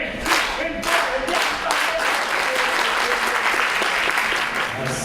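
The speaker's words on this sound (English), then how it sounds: "let's just clap with me" Audience clapping along to a steady beat at a tribute gathering, rhythmic and fairly loud at first, then settling into dense, continuous applause.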